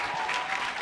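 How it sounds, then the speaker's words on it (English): Audience applause for the hosts at a dance show finale, a dense, even wash of clapping from a crowd. "Can we start off with a big round of applause for our hosts?"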